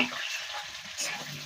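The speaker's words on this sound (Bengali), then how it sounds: "ফুলকপিটা দিয়ে খুব ভালো করে ভেজে নেবো আমরা 2 মিনিট" Cauliflower florets fry in a pan, giving a faint, steady sizzle with soft stirring noises.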